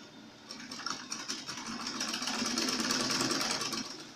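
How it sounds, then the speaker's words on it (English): A sewing machine runs steadily, stitching skirt fabric and its lining together, a close, continuous whirring hum with fine rapid ticking that starts after a brief quiet and holds without talk. "Then I'm going to place the fabric on my sewing machine and sew down."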